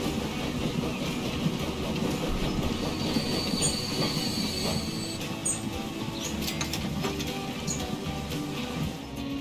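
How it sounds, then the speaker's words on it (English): A train arriving in the video game Transport Fever 2, heard as a continuous rolling rumble of wheels on track with faint squeals and clicks, steady and moderately quiet throughout. "And here comes the train."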